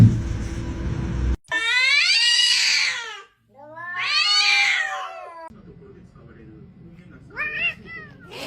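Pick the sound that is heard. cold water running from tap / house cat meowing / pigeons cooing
house cat meowing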